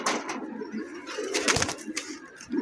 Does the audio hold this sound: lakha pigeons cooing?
yes